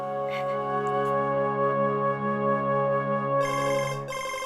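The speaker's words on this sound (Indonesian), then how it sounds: "Bentar, Nak. Mama ada telepon." A telephone ringtone plays loud and close, a sustained tonal melody with layered harmonic notes that shifts to a brighter repeating pattern near the end, with no talk over it.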